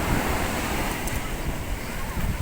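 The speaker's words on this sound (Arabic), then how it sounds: "البحر بصراحه الامواج عاليه جدا، تحس ان البحر غضبان كده، والهواء شديد جدا جدا" Rough sea on a coast under black-flag conditions, high waves surging and crashing amid very strong wind gusting across the microphone, a loud continuous roar.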